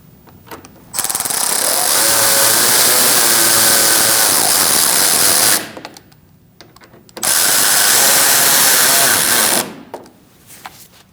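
A power tool tightening Torx bolts under the front bumper cover of a 2016-2019 Chevrolet Cruze, two loud, sustained bursts of rattling hammering, each several seconds long, close by, with a short pause between them.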